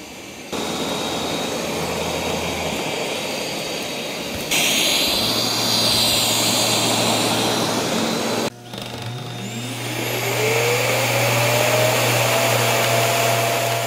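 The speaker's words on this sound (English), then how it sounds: "Here's what the robot sounds like." A Roborock S8 Pro Ultra robot vacuum running indoors, a loud, steady whirring hum and airy rush that shifts in pitch and intensity in stages, with a rising whine near the end.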